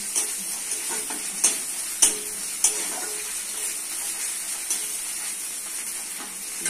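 Onions frying with ginger-garlic paste in a pan, a soft continuous sizzle with occasional sharp clicks and scrapes as the mixture is stirred, at a fairly quiet level.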